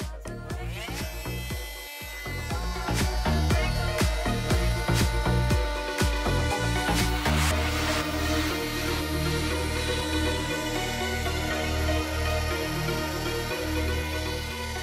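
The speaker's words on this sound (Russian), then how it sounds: "сейчас наглядно на большой скорости я покажу, как режется линолеум, вот кусочек, и как деревяха" An oscillating multi-tool (renovator) with a special attachment cuts through a piece of linoleum and then a piece of wood, a buzzing vibration with scraping strokes starting and stopping, then a steadier high-speed whine, close and alone.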